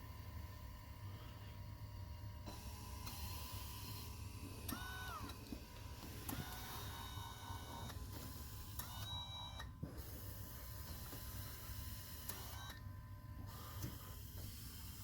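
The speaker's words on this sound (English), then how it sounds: "You can hear the bags, the airbags inflating and deflating." Soft hissing and mechanical whirring from an Osaki 3D Cyber Pro massage chair's airbags inflating and deflating, with faint clicks and shifting tones over a steady low motor hum.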